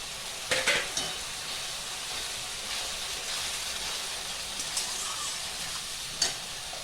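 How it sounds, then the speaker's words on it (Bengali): Ground spice powders of cumin, coriander, dried red chilli, turmeric and salt fry in oil with onion paste in a pan, giving a steady close hiss with a few clinks and stirring scrapes. "এখন মশলা দিয়ে দেবো জিরে গুঁড়ো, ধনে গুঁড়ো, শুকনো লঙ্কার গুঁড়ো, হলুদ, নুন একসঙ্গে"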